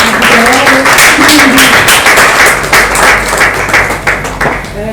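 An audience at a closing ceremony of a Congolese journalists' and publishers' collective claps loudly and steadily for a woman being honoured, a close, continuous patter with a voice briefly audible through it.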